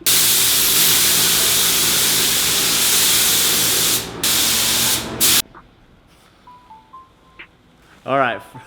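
Spray gun coating a Nissan R35 GT-R bumper, a loud steady hiss running for about five seconds and briefly interrupted before cutting off, followed by quieter room noise and a short voiced sound near the end.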